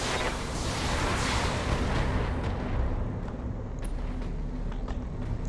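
Mech weapons fire a volley in the BattleTech video game, a dense, loud roar of blasts and booming rumble that thins out after a few seconds into scattered sharp pops.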